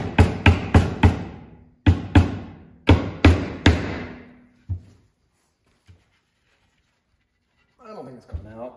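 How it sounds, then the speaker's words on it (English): Sharp hammer blows seat a trim piece onto the window glass of a 1953 Ford F-100 door, landing in quick clusters of three or four close, loud strikes with pauses between, followed by brief speech. "that will give me a way of kind of hammering this piece onto the end of my new window glass"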